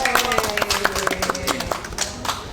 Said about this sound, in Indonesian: Kita tepuk tangan buat Lintas sama datang